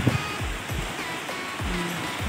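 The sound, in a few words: light rain falling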